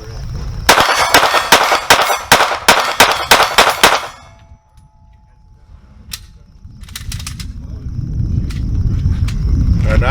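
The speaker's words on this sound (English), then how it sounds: "I'm going to take over and run a few shots too" Rapid strings of loud, sharp gunshots from a Glock pistol fitted with a Radian Afterburner compensator, about nine quick reports in a tight rhythmic burst, then quiet and a few faint metallic clinks over low outdoor rumble.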